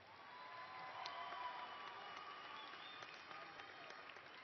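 Commencement audience at Angelo State University applauding a group of graduates, steady distant clapping from a large crowd in a big hall, sustained and even throughout.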